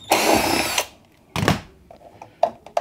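A power tool loosens a T20 Torx bolt on an Electrolux Zanussi dryer: a loud whirring burst, a shorter second burst, then light clicks and handling knocks close by.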